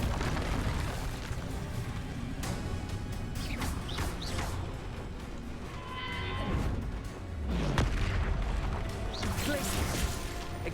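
Fire spell blasts and clashing combat effects during a troll fight in Hogwarts Legacy, a dense, loud wash of whooshes, rumbling booms and creaking impacts with no clear break, heavy low rumble throughout.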